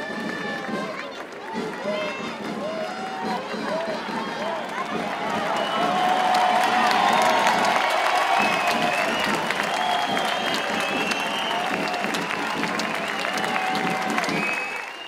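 A crowd watching a castellers human tower bursts into sustained, dense applause that swells louder midway and stays strong, with voices mixed into the clapping.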